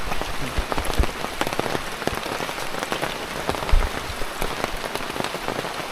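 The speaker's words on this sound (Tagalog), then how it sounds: "Pero hindi pa tumigil ang ulan." Rain falls steadily with scattered drops pattering on a nearby surface, a constant hiss with irregular louder hits.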